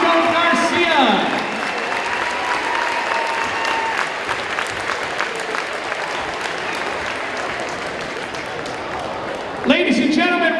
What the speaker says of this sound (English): one more big round of applause for all of the members of the 2019 Homecoming Court